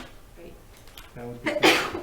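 A single sharp sneeze bursts out near the end, louder than the brief indoor conversation that comes before it.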